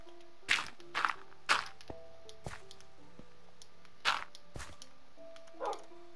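A Minecraft dog barks several times in short, sharp yips, spaced irregularly over a few seconds, moderately quiet against faint game background tones.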